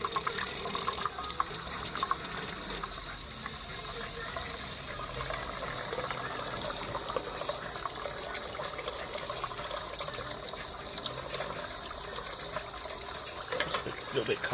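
Water flowing into the feed of a 3-inch Fowler steam engine with a failing injector, a quiet continuous rushing and trickling, close by and fairly faint, with some soft talk in the background.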